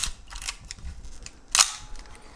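Clicks of a Nikon manual film SLR, in the FM/FE family, in close succession: a quick shutter release followed by the ratcheting advance lever, the sharpest snap coming near the end.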